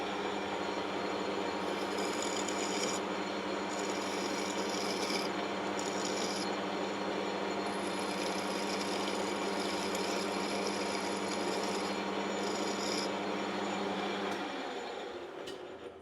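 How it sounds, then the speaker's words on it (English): A lathe file rasps steadily against a spinning aluminium plate, chamfering off burrs in a continuous close scraping with the lathe running beneath, fading near the end as the machine slows. "I'll put some nice little chamfers on there with the lathe file"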